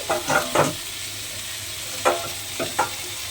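A spatula stirs ridge gourd in a pan in a few soft, scraping strokes, quiet and close, with brief pauses between them.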